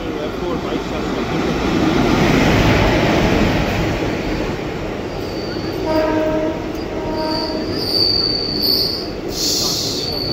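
An old ICF coach of the Kanchanjunga Express in poor condition, running on the rails with steady loud rumble, then high metallic wheel squeals rising and ringing out near the end.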